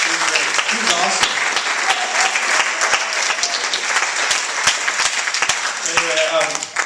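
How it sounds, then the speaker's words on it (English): A crowd at a customer service session at the Marin County Fair gives Carol a big round of applause, loud dense clapping sustained throughout with sharp individual claps standing out and a few voices talking over it. "Let's give Carol a big round of applause."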